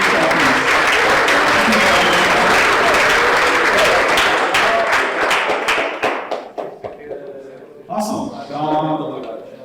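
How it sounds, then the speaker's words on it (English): Audience at a tech conference applauding the organizers, a loud dense burst of clapping that thins into scattered individual claps and fades, then a voice begins speaking near the end. "I want to do a huge round of applause for the organizers"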